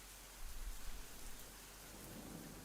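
Steady rain and a low rumble of thunder in a video game, a dense hiss of downpour with a soft rolling swell, faint and continuous, with no voices.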